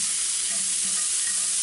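Butter sizzles steadily in a hot pan with shrimp and garlic, a dense continuous frying hiss with faint stirring scrapes underneath, close and fairly loud, no voices.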